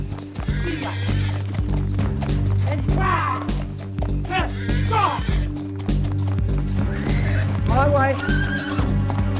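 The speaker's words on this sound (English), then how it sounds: "A wild stallion will sense fear quickly and can become extremely aggressive." A wild desert stallion gives several shrill neighs and whinnies over steady thudding hooves, while someone talks in short bursts nearby under a constant low hum.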